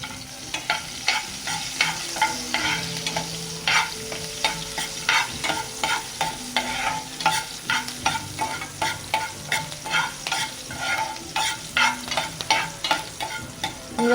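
Cumin, mustard seeds, asafoetida, curry leaves, urad dal and chillies fry in hot oil for a tempering, a loud close sizzle broken by rhythmic scraping strokes of a stirring spoon, with no speech.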